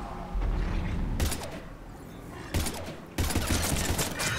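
Gunfire from the Mass Effect 3 video game: loud bursts of shots fill the opening second, then sharp salvos return near 2.5 and 3.2 seconds, with no talk over them.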